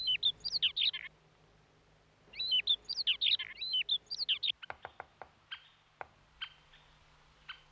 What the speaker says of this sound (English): in spring, the woods echo with the sound of birds.